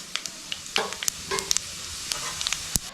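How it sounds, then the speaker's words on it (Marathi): Whole spices such as star anise, green and black cardamom and cloves crackle and sizzle in hot oil for a paneer biryani, with scattered sharp pops and faint stirring over a steady frying hiss. "हे सर्व खडे मसाले आपल्याला तेलामध्ये टाकायचे आहेत."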